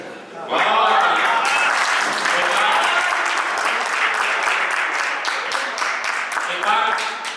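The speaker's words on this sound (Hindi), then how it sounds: "जोरदार तालियां" Loud, sustained applause from a crowd at a Hindi poetry recitation by poet Adarsh Barabankvi, dense clapping rising sharply and holding steady for several seconds with faint voices mixed in.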